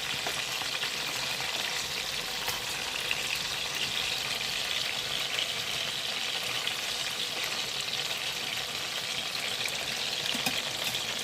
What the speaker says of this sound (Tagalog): Mayroon din akong pinirito ditong isda sa kabila. Kabilang kalan.